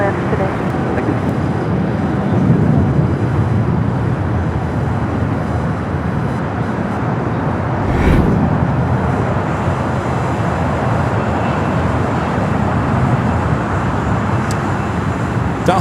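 A Delta Boeing 767-300ER jet arrives on the south side at Los Angeles International Airport, its steady broad engine roar rising to a louder swell midway, heard at a distance over constant airport and traffic rumble.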